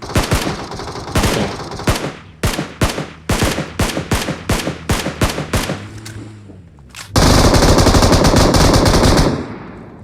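Gunfire in the mobile battle royale game PUBG Mobile: a series of sharp, loud automatic bursts and single shots in quick succession, then a sustained dense volley near the end.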